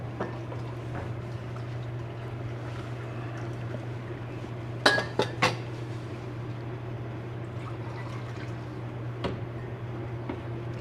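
Tea cups are handled and warmed with hot water while Cascade raw black tea is prepared in a tea shop. A few sharp clinks and knocks come in a short cluster midway, then a lighter tap, over a steady hum and faint liquid sounds.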